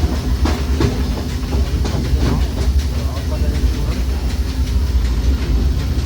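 The Disneyland Railroad train rumbles steadily along the rails with rhythmic clattering and a faint hiss, loud and continuous, while a narrator speaks over it.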